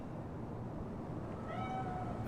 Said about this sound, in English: Fine-looking feline.